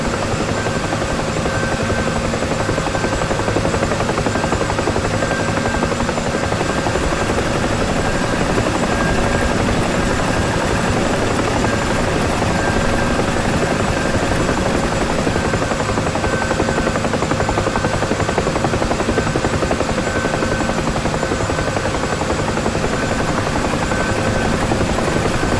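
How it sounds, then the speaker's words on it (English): A UH-1 Huey helicopter in the DCS flight simulator runs with a loud, steady rotor and turbine drone that holds constant and unbroken throughout, with no voice over it. "I'm almost overspeeding the rotor."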